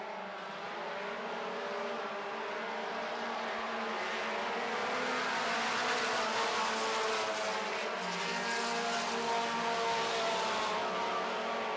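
4-cylinder stock cars race on a track, including a Ford, and their engines make a steady, continuous drone that swells slightly as the pack passes at a moderate distance, with no talk heard.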